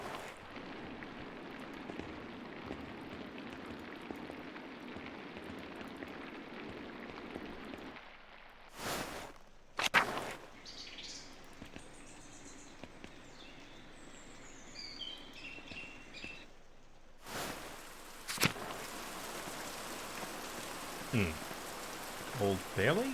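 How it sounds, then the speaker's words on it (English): Steady rain falls at a medieval abbey in the narrative video game Pentiment, a constant soft hiss with occasional chirping birds and a few sharp interface clicks over the ambience. "It's raining."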